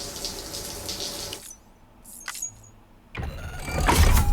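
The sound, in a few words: shower running water in Death Stranding video game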